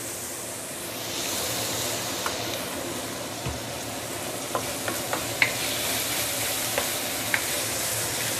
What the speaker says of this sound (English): So let's saute this for a couple of minutes before we continue